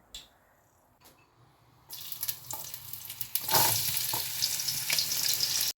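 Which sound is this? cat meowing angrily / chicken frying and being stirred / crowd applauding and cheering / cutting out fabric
chicken frying and being stirred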